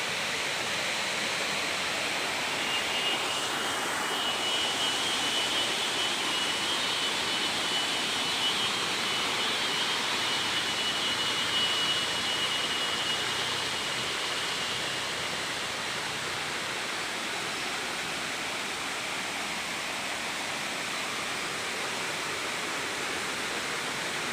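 Pa Wai waterfall in Phop Phra, Tak, pours in a steady, even rush of white water that is heard close and constant throughout, with no voices over it.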